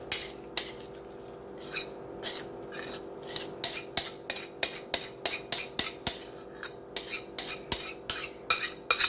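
A homemade copycat Cracker Barrel hashbrown casserole mixture is spooned into a round casserole dish, with a steady series of wet, scraping spoon clinks against the dish, repeated rhythmically and close up, with no talking.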